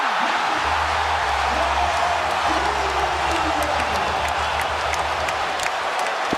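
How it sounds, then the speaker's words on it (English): Crowd cheering in the basketball video game NBA 2K18, a continuous roar of arena noise with whoops and clapping, with game horn tones underneath, loud and sustained throughout. "That brought the crowd to their feet."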